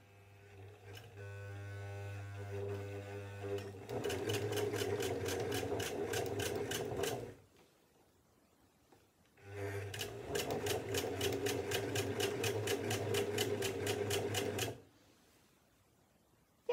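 Sewing machine stitching quilt cover fabric for a dress, running in two loud sustained bursts of rapid, even stitching separated by a short pause, with a soft hand-turned start at the beginning.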